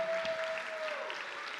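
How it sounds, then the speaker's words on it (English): Audience applause at a high school sports awards night for three-season athletes, a steady crowd clapping throughout with a sustained tone running beneath the first half. "give me a round of applause for 3 seasoned athletes"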